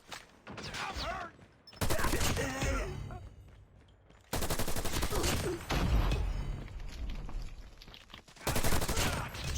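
Bursts of automatic gunfire from the mobile shooter game Call of Duty Mobile come in loud, dense volleys separated by short lulls, mixed with shouted in-game callouts.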